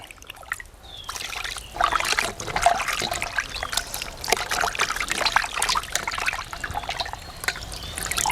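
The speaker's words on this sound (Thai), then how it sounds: "ล้างเครื่องในให้สะอาดก่อน" Offal is rinsed under running water for a bitter offal soup, a continuous close trickle and splash with irregular sloshing as the pieces are handled, fairly loud and steady with no voices over it.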